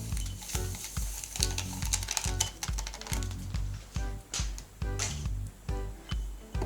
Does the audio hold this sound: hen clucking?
no